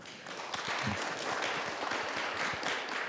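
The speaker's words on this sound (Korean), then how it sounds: "큰 박수로 맞이해 주시기 바랍니다." Audience applause at a policy debate forum on the Daegu-Gyeongbuk new airport, a steady, fairly faint wash of many hands clapping throughout with no voices over it.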